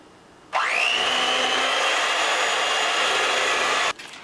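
An electric mixer whirs steadily through cookie dough for a lemon lavender batch, starting abruptly, holding a constant loud motor drone for about three and a half seconds, then cutting off.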